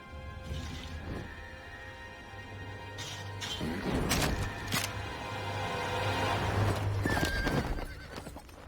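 A horse whinnies and hooves clop steadily, with thuds and clatter in a busy scene from Total War: Warhammer and a low droning tone beneath.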